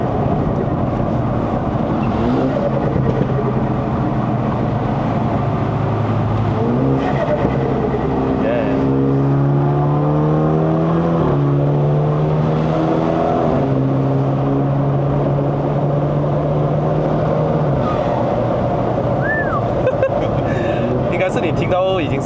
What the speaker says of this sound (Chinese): 我一退档的时候，它就会有那个声音，也是 blow。